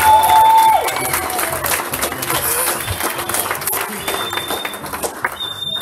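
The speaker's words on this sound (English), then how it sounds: "let's give them another round of applause because I know how much you love them" Wedding guests at a reception in a banquet hall give the newlyweds another round of applause, a dense wash of clapping and some cheering that follows a brief tone and carries on steadily at moderate loudness.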